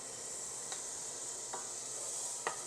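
Butter, about a tablespoon, melts in a preheated pan with a steady, close hiss of fine sizzling, broken by three faint scraping clicks.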